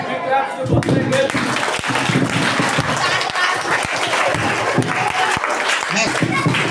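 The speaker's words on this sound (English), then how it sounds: "big claps to both the girls" Loud, sustained applause and clapping from a school audience at a maths day event, a dense crowd wash running throughout, with some voices audible underneath.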